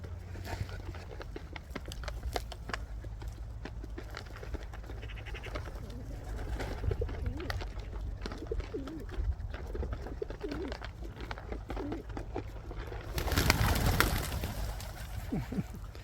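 Soft cooing of pigeons with faint pecking and rustling throughout, outdoors, steady and low, with a brief louder flutter near the end.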